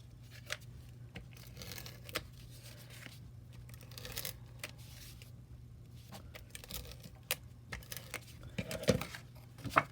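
Strips of tape torn and pressed down while a plaid card is assembled, giving soft irregular tearing, crinkling and patting bursts at close range over a steady low hum.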